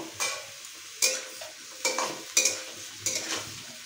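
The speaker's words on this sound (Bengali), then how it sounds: "দিয়ে এটাকে একটু ভালো করে আমি একটু ভেজে নেবো।" Pieces of raw jackfruit frying in hot oil in a pan, a steady soft sizzle broken by five or six sharp scraping stirs of a spatula against the metal, close up with no talk.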